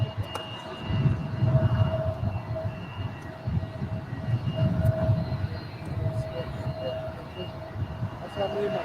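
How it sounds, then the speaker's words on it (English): A China Airlines Boeing 777 from Taipei rumbles on approach at LAX, a low swelling engine roar rising and fading twice, with steady background hum and a voice speaking intermittently. "This must be the China Airlines 777."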